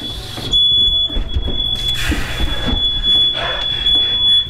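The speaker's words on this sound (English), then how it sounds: "now that the fire alarm went off, you know your eggs are done" A smoke alarm beeps loudly and continuously at a high steady pitch while eggs burn in a pan, sounding over stovetop clatter and kitchen noise with no talk.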